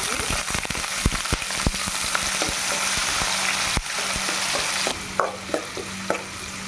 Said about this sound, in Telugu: ఆనియన్స్ని దూరగా వేయించుకోవాలి